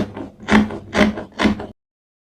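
Scissors cutting a fabric armhole for a circle dress, three crisp close snipping strokes in a quick even rhythm, then silence.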